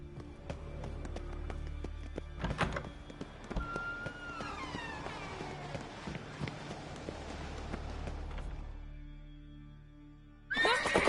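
A horse in The Witcher 3 whinnies loudly in a long, wavering neigh, with hoof clatter and game ambience around it and a sudden burst of noise at the end.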